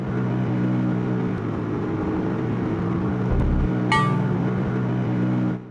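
A car driving in the PSX video game GERMS gives a steady low engine drone with a brief rising whine and a short electronic chirp, loud and continuous with no talk.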